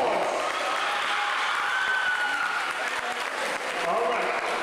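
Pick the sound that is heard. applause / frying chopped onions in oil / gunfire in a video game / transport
applause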